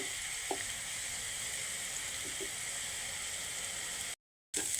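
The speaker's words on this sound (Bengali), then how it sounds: "পেঁয়াজ বাটা ভাজা হয়ে গেছে" Onion paste frying in a pan for a tangra fish and okra curry, a steady soft sizzle with a few faint stirring clicks, continuous and close, broken by a brief cut of silence near the end.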